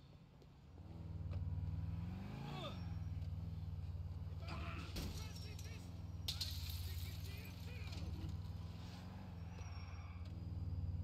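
A car drives in the video game GTA 4, its engine droning in a steady hum that briefly rises in pitch, with scattered game sounds and bursts of voices over it.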